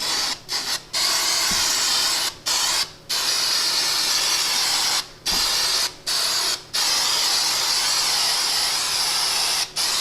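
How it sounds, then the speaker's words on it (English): Aerosol liner coating sprayed liberally inside a Victory motorcycle saddlebag: a loud, close, steady hiss in long bursts broken by several short pauses, with no voices. "Make sure that you do spray it on liberally."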